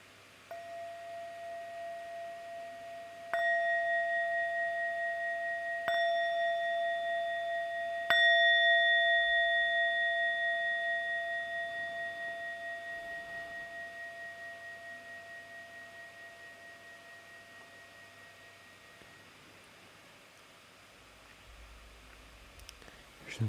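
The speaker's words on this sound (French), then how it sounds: "Je vais à présent sonner la cloche à 3 reprises" A meditation bell is struck three times at a few seconds' spacing, each ring a clear, pure metallic tone that sustains and slowly fades into a long, quiet decay in a hushed room.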